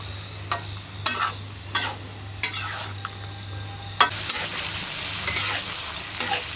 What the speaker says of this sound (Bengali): তেলের উপরে পেঁয়াজ ভেজে নিচ্ছে